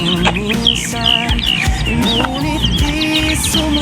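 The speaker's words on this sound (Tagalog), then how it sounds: "kasi mga ibon sa gilid ng palayan natin" Birds chirping and tweeting at the edge of a rice field, a busy overlapping stream of bright calls, close and loud, with no talk.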